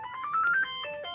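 Mobile phone ringtone chiming close by, a short rising electronic melody of bright tones with no voices.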